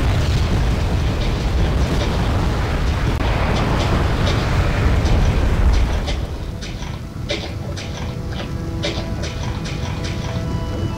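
Mortar artillery barrage in the video game Wargame European Escalation, striking a city: dense, continuous booming explosions rolling together, then thinning into scattered sharper blasts and crackles at lower level.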